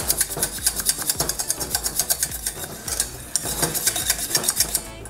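Heated cornstarch is stirred in a pot for homemade porcelain clay, with a utensil scraping and clinking against the pot in a quick, steady rhythm of repeated strokes, close and fairly loud, with no talking.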